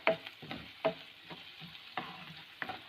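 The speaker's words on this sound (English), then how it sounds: "So my onion started becoming little brown in color." Onions browning in a pan for chilli cheese idli, a Chennai street food, a quiet sizzle broken by a rhythmic series of spatula stirs and scrapes, no speech.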